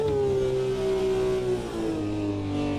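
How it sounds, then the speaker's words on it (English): A car engine in a racing video game at a classic car championship, a smooth sustained drone holding steady revs before easing slightly lower and settling, loud and continuous with no talk. "But listen to the engine."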